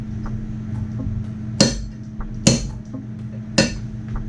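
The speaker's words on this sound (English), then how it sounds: "Let's give it a little tappy tap and see where we're at." A hammer gives three sharp metallic taps to a punch on a pin of a Steyr M95 Mannlicher carbine, spaced about a second apart over a low workshop hum.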